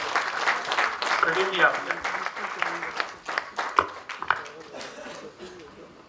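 A crowd at an award ceremony during a national poetry gathering gives scattered applause in uneven bursts that fade, while someone speaks over the clapping.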